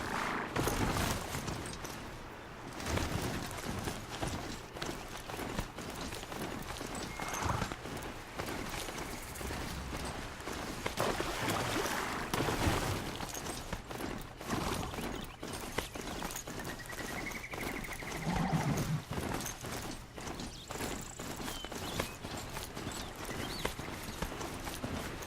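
Robot horse Strider from the game Horizon Zero Dawn, its mechanical hooves clip-clopping at a steady trot, continuous and fairly close, with ambient game sound around it.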